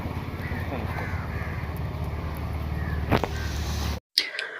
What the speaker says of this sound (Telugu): ఇక్కడ కాకులు వాళ్తుంటాయి